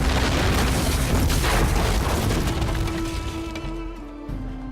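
In the Rome Total War strategy game, a camp being destroyed gives a loud, rumbling crash with splintering crackle that slowly fades and thins out, with no talking.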